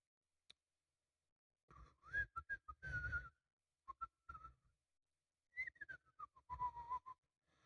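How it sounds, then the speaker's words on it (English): Someone whistles a short, wandering tune while working, in two bursts of clear, fairly soft notes with a brief pause between them. "I'll just be over here whistling and whistling while I work"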